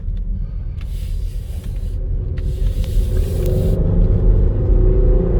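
A 2015 Mercedes GLK350 4matic V6 small SUV accelerates at half throttle, a steady low engine rumble and road noise building gradually, close and continuous with no talk.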